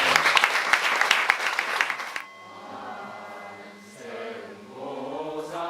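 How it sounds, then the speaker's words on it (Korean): An audience at a temple youth ordination school graduation claps loudly and densely for about two seconds, then the applause stops abruptly and sustained tonal sound takes over. "큰 박수를 보내드립니다."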